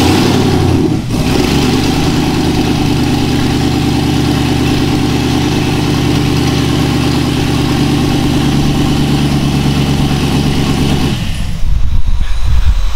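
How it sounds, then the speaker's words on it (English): An LS3 V8 swapped into a Toyota FJ62, running open headers, cranks and catches, then idles roughly and loudly for several seconds before the sound cuts into a rougher rev near the end, with no voices. "So that's our rough startup. It is the open header there, so it makes it quite loud"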